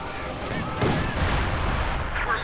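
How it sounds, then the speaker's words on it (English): Heavy artillery fire rumbles in the Company of Heroes real-time strategy game, a dense, loud barrage of booms and blasts running throughout with faint higher tones layered above. "Artillery coming in"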